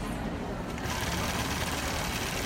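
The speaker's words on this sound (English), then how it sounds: "I'm going to go ahead and speed up the stitching" A Gammill longarm quilting machine runs at speed through a quilt at a trade-market demonstration, giving a loud, steady mechanical whir that fills the whole stretch without a break.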